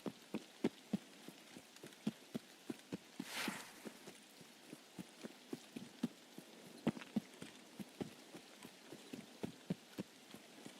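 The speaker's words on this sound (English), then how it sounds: "Why you always raining?" Rain falls in the video game Escape from Tarkov as a faint, steady hiss, with regular soft taps like footsteps ticking throughout and a brief louder rush in the middle.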